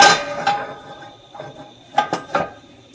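A Finex cast iron skillet is flipped over, producing a few sharp metallic clanks and knocks, a loud one at the start and a cluster of three close together near the end, with no talking.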